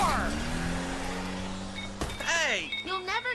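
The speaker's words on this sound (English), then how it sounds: "Freaking car!" A video game car engine drones steadily with a low sustained tone, then near the end sharp rising squeals and revving bursts stand out over it, with other game sounds and voices briefly mixed in.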